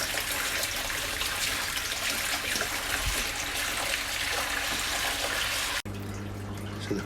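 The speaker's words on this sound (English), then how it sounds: "So the pump's running," A water pump circulates about 60 litres of nutrient solution through an off-grid hydroponic setup, giving a steady, close rushing and trickling of water that runs throughout before dropping to a quieter hum near the end.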